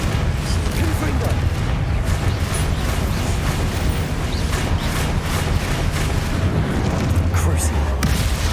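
Confringo fire spell blasts in Hogwarts Legacy during a duel trial, loud booming bursts over continuous dense battle noise with a spoken voice among the sounds.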